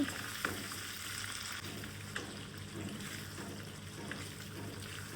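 Chicken boti masala sizzles softly in a pan while being stirred, a faint, even frying hiss with occasional light scrapes, heard close with no talking.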